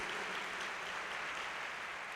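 Applause from a church congregation during a Sunday family worship service, a steady dense wash of clapping lasting the whole moment without any talk over it.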